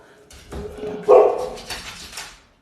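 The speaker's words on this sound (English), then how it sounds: "my dogs are gonna bark today" Several dogs barking indoors in short, excited bursts, loud and close, with one sharp peak bark in the middle and smaller yips trailing off.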